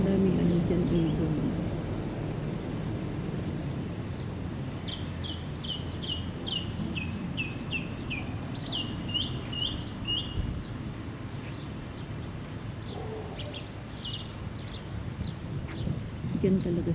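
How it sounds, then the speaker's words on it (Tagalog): Small birds chirp in quick trilling runs across a park, faint and somewhat distant over wind and a low outdoor rumble, with some talk in the background. "Dyan ibon."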